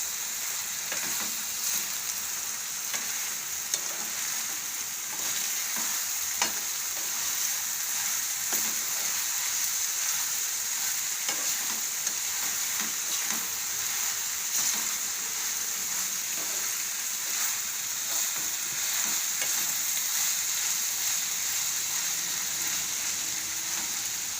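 Cabbage and chana dal curry sizzles steadily in a pan while being stirred and turned, with soft scraping strokes cutting through the constant close frying hiss.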